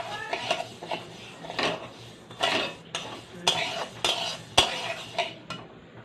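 Kamini atap rice is lightly fried and stirred in a pan for vegetable khichdi, with a spoon scraping and clinking against the metal in irregular bursts over a faint frying hiss.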